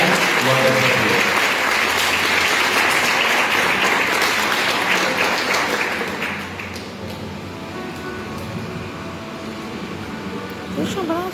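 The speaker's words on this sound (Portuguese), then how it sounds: "E assim eu peço aos amados irmãos que tenham uma linda salva de palmas." Applause from a church congregation at a Methodist service, a dense, loud clatter of many hands that thins and softens partway through, with voices mixed in.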